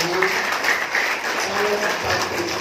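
An audience at an awards presentation applauds in a steady, even wash of clapping, with a voice faintly underneath.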